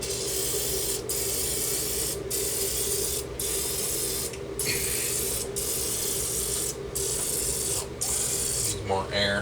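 Cooking oil spray spritzes over chicken wings in quick, repeated hissing bursts, each short puff separated by brief gaps, set against a steady background hum close by.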